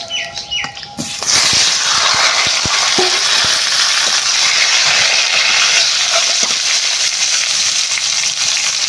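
Taro pieces dropped into hot oil with a tempering of bay leaf, dried chilli and cumin: a few soft clinks, then a sudden loud, bright sizzle that stays strong and steady to the end.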